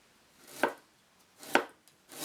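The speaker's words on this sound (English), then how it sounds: "We mince ginger, aromatic herbs, cheese, pork loin, and pork belly" A knife minces ginger, aromatic herbs, cheese, pork loin and pork belly on a board, three separate bursts of quick chopping strokes spaced about a second apart, close and clear with no talk.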